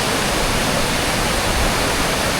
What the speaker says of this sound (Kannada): ಇಲ್ಲಿ ವಾಟರ್ ಫಾಲ್ಸ್ ಬಂದು ಇಲ್ಲಿ ಬ್ರಿಡ್ಜ್ ಇದೆ